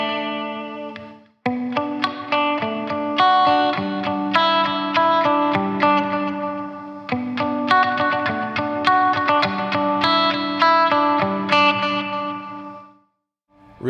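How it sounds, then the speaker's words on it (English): An electric guitar plays a melodic lead through a Fender Champion 50XL amp's delay and reverb, notes echoing and smearing into a lush, trailing wash before fading out. "Now delay and reverb, which go really well together."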